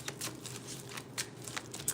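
Tarot cards are shuffled by hand up close, producing quick papery riffles and soft flicks in uneven bursts over two seconds.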